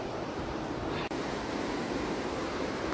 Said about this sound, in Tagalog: Maririnig nyo ang lagas-las ng alon, diba?